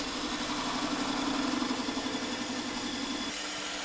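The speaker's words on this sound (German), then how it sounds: "die Maschine fährt jetzt hier vollautomatisch vor" A Holzmann ED 750 FDQ metal lathe runs on automatic feed while turning stainless steel, giving a steady close mechanical hum and whir that drops slightly in level near the end, with no talk.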